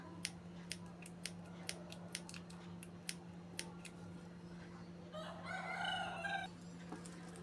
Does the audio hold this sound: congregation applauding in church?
no